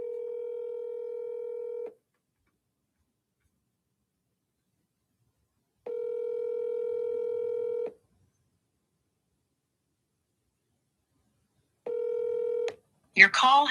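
Telephone ringing tones on a call that is then forwarded to voicemail: three long steady tones separated by silent gaps, the last cut short as a voice comes on the line.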